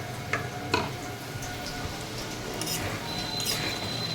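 Whole garam masala spices fry in Gopal ghee and oil in a pan, a steady soft sizzle with a few scattered pops and ticks, close and even throughout, no voices.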